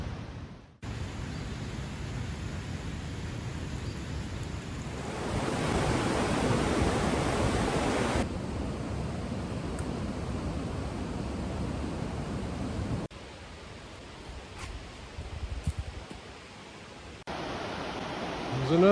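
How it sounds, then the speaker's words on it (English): Creek flowing beside a hiking trail on the Benton MacKaye Trail, a steady broadband rush of running water that swells louder midway and stays continuous throughout, close and fairly full, with no clear voice over it. "There's another creek I'm walking next to."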